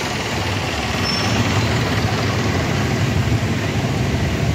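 An owner-type jeep with a stainless body and a Toyota 4K gasoline engine runs with a steady, loud, close idling rumble that holds even throughout, with no talking.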